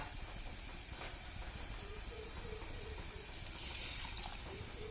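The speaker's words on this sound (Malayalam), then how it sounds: "നമുക്ക് പുളിവെള്ളം ഒഴിച്ചു കൊടുക്കട്ടോ" Tamarind water poured into a pan of fish masala for a dry fish roast, a steady soft liquid rush and hiss that runs close and continuous throughout.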